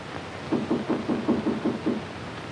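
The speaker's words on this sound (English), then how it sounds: "got to sleep when I heard this knock on the door" Knocking on a door at night, a run of about eight quick, even raps close by, followed by a short pause and one final knock, with a quiet room around them.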